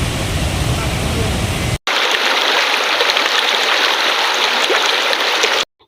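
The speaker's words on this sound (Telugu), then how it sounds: "బొగత సమీపంలో ఉన్న జలపాతానికి వరద నీరు పోటెత్తుతోంది" Bogatha waterfall near Wazedu in Mulugu district, swollen with floodwater after heavy rains, roars loudly as a constant, dense rush. The sound cuts out briefly once and then breaks off near the end.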